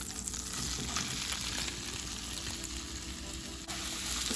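Mushrooms, garlic and onions sauté in a hot pan for vegan stuffed tomatoes, giving off a steady, close, dense sizzle that runs unbroken throughout with no voices.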